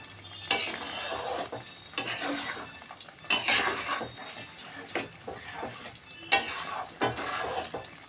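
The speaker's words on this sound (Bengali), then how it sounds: "মাংসটা আমি মশলার সঙ্গে কিছু কিছুক্ষণ কষিয়ে নেব" Chicken with spices is stir-fried in a pan, each burst of vigorous spatula stirring and scraping rising over a steady sizzle, close and fairly loud.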